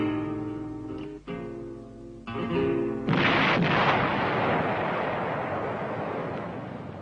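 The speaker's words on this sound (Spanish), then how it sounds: "La formidable explosión precipita una de las torres al Tajo." A dynamite blast brings down a tower in a loud, rumbling explosion that follows a stretch of dramatic music, its roar sustained and slowly fading.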